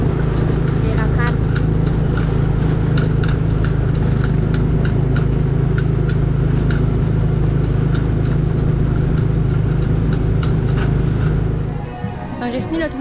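A small ride car on the Tomorrowland Speedway at Magic Kingdom hums with a steady, droning engine note close by. Faint ticking runs through it, and the sound drops off and shifts near the end.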